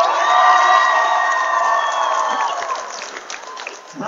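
Dense crowd cheering and shouting at a varsity high school basketball final in a gym, a loud sustained roar of many voices that gradually thins and fades toward the end.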